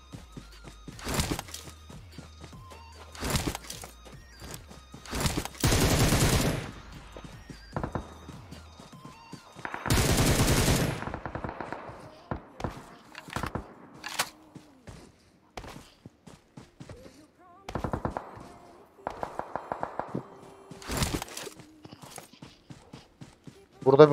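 Bursts of gunfire in the mobile battle royale game PUBG Mobile, several loud dense volleys and single shots scattered among quieter footsteps and clatter, with a voice talking intermittently.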